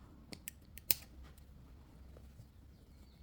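Scissors snip the threads of a handmade crochet placemat, giving a few quick, faint, close clicks near the start, one sharper cut among them, then quiet room tone.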